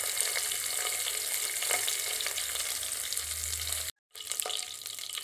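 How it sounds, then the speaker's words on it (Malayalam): Curry leaves with cinnamon, cardamom and cloves frying in hot oil for a chicken fry: a steady, close sizzle and crackle with faint stirring scrapes, briefly cutting out near the end before resuming. "ചൂടായി വരുമ്പോൾ കുറച്ച് കറിവേപ്പില ഇട്ട് കൊടുക്കുന്നുണ്ട്."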